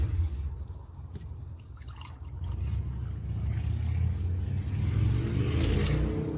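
Two cups of vinegar poured into a black dye bath, a low gurgling stream of liquid that swells louder toward the end, close by with no talk.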